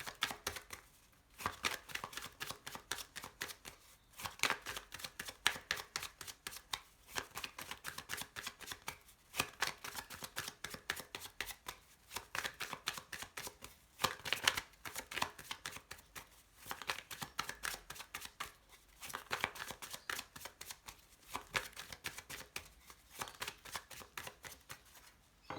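Petit Lenormand cards riffle and slap together in repeated shuffles, quick papery bursts separated by short pauses, close and fairly quiet, with no talking.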